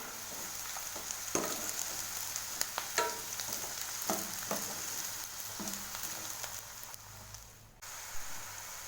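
Squid pieces fry in a pan with a steady bright sizzle and crackle, broken by clinks and scrapes of a utensil, moderately close and with no talking.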